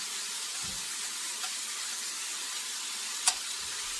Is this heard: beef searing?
yes